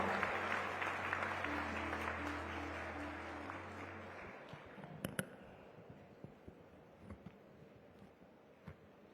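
Audience applause at a CREDAI Gujarat and CREDAI Ahmedabad swearing-in ceremony, a steady, dense clapping from a large indoor crowd that fades gradually, with a low hum beneath it at first and a few scattered claps and knocks near the end.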